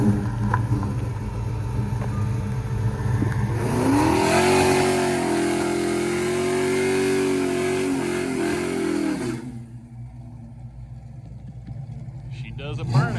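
Fox Body car doing a burnout, its engine revving up and holding a loud, strained, rising roar for several seconds before dropping away, with people talking over it.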